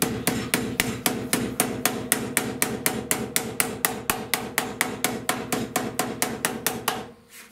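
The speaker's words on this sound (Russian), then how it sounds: "Я использую такой молоток." Steady series of about twenty-five sharp hammer blows on sheet metal, struck at an even quick rhythm while folding the edge of a homemade dustpan, close and loud, ending abruptly.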